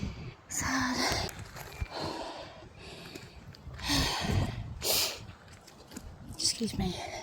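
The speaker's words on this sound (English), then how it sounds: "Sniffling and snorting." Repeated nasal sniffling and snorting outdoors on a walk, several short breathy bursts spread across the moment under intermittent talk and light background noise.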